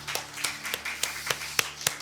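Sparse, slow hand claps from a church congregation at an early-morning prayer service, around eight distinct claps spaced unevenly, soft and slightly distant over a steady low hum.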